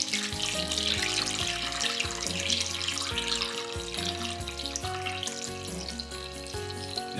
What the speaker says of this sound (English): we're going to pour it into our Ninja container